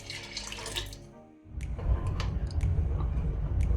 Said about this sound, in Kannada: ಮಿಕ್ಸಿ ಜಾರಿಗೆನೆ ಸ್ವಲ್ಪ ನೀರು ಹಾಕೊಂಡು ಹಾಕೊಳ್ಳೋಣ